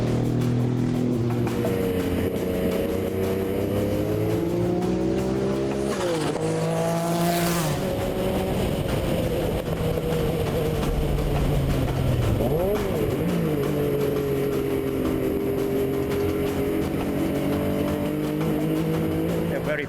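A Porsche 962 race car roars steadily on a track, engine pitch climbing and dropping through gear changes, loud and close throughout with brief tire squeal.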